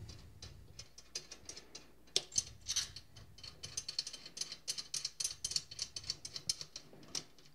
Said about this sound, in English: I'm just finger tightening